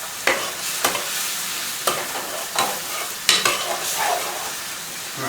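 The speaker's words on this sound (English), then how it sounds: "Give it a stir." Chicken tikka rezala with single cream sizzles in a pan as a spoon stirs it, with several distinct scraping strokes over a constant frying hiss and no speech.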